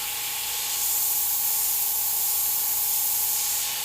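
An airbrush sprays a fine mist of green paint onto a tiki carving in one continuous, close hiss that holds steady for several seconds, with no talking.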